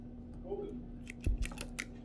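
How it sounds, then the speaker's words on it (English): Scissors snip the thin string inside a CAT5/CAT6 Ethernet cable, giving a few sharp, close clicks and cuts in quick succession over a faint background hum. "we're going to cut this string"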